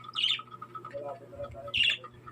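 Small parakeets and lovebirds give two bright, sharp chirps a couple of seconds apart, with low background murmuring and faint rustling in between.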